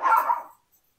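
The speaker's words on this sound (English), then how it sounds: "Just in time for the dogs to start" One short bark or yip from a dog at play outdoors beside an offset smoker cooking a whole pig, loud and near, fading out within half a second.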